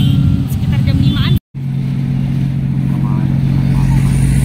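Motorcycles boarding a ferry at Ciwandan port: a loud, close engine drone that holds steady, with one brief dropout, and a voice speaking over it.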